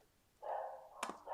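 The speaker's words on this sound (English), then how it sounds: "oh, my dogs are just going crazy." A pet dog barks indoors, a few sharp close yelps, one cutting off in a sudden thump, set against a quiet room and loud relative to the stillness around them.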